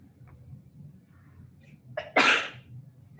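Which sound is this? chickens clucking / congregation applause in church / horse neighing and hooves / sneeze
sneeze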